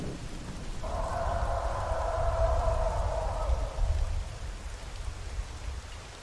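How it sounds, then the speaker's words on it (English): A long, low rumble of video game thunder rolls under steady rain, swelling and fading over several seconds, with a brief mid-pitched tone drifting above it. "Thunder sounds so much like footsteps"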